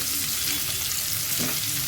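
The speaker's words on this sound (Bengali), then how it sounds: "আলুটা আমি হালকা করে ভেজে নেব।" Potatoes fry lightly in a pan, a steady soft sizzle running the whole time with a brief scrape of stirring near the end.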